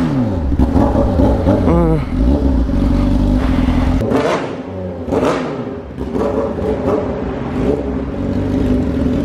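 A Honda CB 600F Hornet motorcycle, stripped down to a bare straight-pipe exhaust, revs hard on a street, loud and close with rising and falling throttle blips and a raspy, crackling engine note. Voices are heard faintly alongside.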